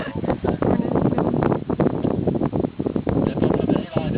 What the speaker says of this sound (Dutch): En dat is een hele harde wind.